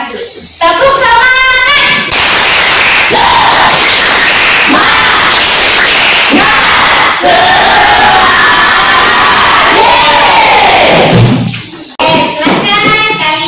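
A class of children performs a spirit clap chant in a classroom, loud unison shouting punctuated by sharp rhythmic claps, ending in a brief pause before the voices pick up again.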